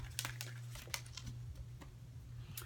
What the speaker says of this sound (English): I'm going to go ahead and give Rumi a shuffle.